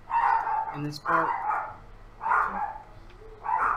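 Several dogs bark in short bursts, fairly close, with yips between, while people talk over them.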